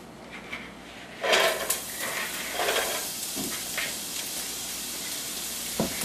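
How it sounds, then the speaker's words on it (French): Garlic and onion hit hot oil in a pan with a sudden loud sizzle, followed by steady frying hiss and bursts of stirring scrapes, close and without talk. "Maintenant que l'huile est chaude, je vais incorporer l'ail et l'oignon"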